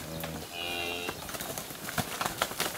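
Cows on a farm where the fence has been knocked down: one low, drawn-out moo near the start, followed by shuffling and thumping movement with faint background noise.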